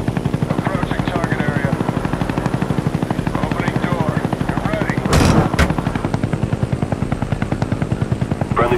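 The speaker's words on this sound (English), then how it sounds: "Friendly Huey inbound." A Huey helicopter in Call of Duty: Black Ops thumps with steady, rapid rotor beats, loud and close throughout, with a short burst of gunfire-like noise midway and game voices speaking over it.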